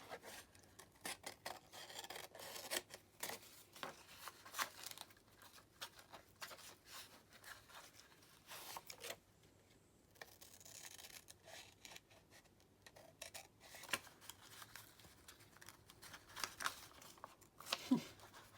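Scissors cutting a botanical tag card, a quiet run of repeated snips and rustling paper scrapes with a brief pause midway, close but faint, no talk.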